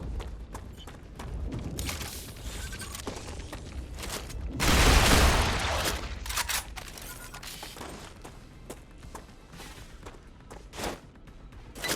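Dense sci-fi video game gunfire from StarRupture, with rapid bursts and clustered shots and a loud blast around the middle, continuous action sounds throughout and no speech.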